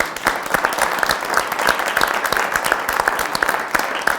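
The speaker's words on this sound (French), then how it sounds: "bravo, on vous applaudit." Audience applause at a French TV show broadcast, a dense, steady wash of many hands clapping loudly and continuously throughout.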